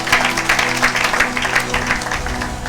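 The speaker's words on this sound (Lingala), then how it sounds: "Acclamez pour la gloire de l'Éternel notre Dieu." A church congregation claps together for a few seconds in a lively, rhythmic burst of applause that fills the hall, with no voices standing out.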